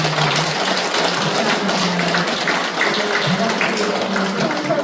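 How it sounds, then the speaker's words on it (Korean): A congregation at a Won Buddhist temple celebration applauds in thanks, producing steady, moderately loud clapping that carries through the whole stretch with some voices underneath. "감사의 마음을 박수로 전해드립니다."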